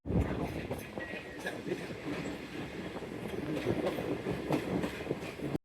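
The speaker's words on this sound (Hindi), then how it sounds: "11:45 पे हमारा डिपार्चर हो चुका है शालीमार एक्सप्रेस का फैसलाबाद स्टेशन से" Shalimar Express passenger train running from Faisalabad station toward Multan, heard from on board as a steady, loud rumble with continuous clattering wheels on the rails.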